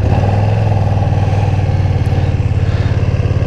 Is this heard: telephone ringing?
no